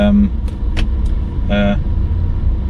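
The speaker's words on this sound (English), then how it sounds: "now I'm sat in a traffic jam" Cars idling and creeping in a traffic jam, a steady low engine rumble close by with a couple of brief higher tones rising over it.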